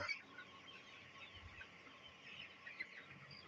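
Soft, scattered clucking from a desi rooster, low and somewhat distant over a faint steady background hiss, with a few brief louder peaks.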